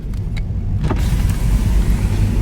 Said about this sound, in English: One touch down. Automated windows.